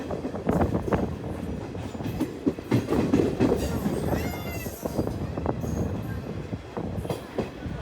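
An express train pulls into platform 2 at Surat railway station, rolling with clattering wheel noise and mixed station and carriage sounds, moderately loud and continuous, with scattered background voices.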